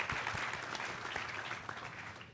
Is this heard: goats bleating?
no